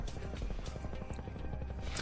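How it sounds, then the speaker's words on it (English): A helicopter in the video game Neotokyo flies in, a steady loud rotor thump and engine roar throughout with no talk. "Love the helicopter, the way it flies in."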